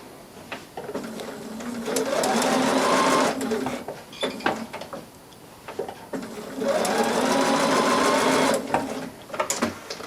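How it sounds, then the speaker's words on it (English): A sewing machine top stitches along fabric edges in two long, steady runs of whirring needle, with brief pauses and small handling noises between them. The stitching is close and loud, and no one speaks. "we're ready to top stitch again. That 1/8 of an inch from the edge"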